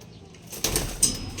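Pigeons flap their wings at close range in a backyard loft, two quick bursts of fluttering about a third of a second apart over a quiet background.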